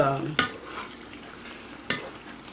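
Shrimp scampi cooking in a pan gives a low, soft sizzle, broken by two sharp stirring scrapes about a second and a half apart; no voices.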